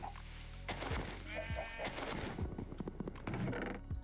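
Sheep bleating in Minecraft One Block, a few short wavering bleats amid busy game noise with sharp popping hits and clatter, fairly close and moderately loud.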